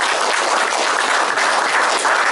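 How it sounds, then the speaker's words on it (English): A crowd applauds steadily and loudly, dense clapping filling the whole short stretch without a break. "I'd like to give you a round of applause"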